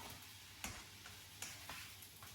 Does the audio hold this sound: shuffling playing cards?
no